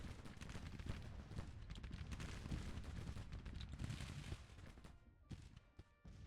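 Civil War artillery guns firing in the Grand Tactician: Civil War video game, a dense, continuous crackle of distant gunfire and booms that thins out near the end, fairly faint, with no talk.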